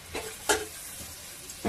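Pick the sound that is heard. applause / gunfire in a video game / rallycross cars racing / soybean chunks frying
soybean chunks frying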